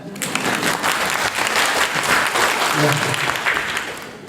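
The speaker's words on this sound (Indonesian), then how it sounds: "Boleh tepuk tangan Pak?" Seminar audience applause at a parenting talk: dense, continuous clapping from a large room, with some voices mixed in underneath.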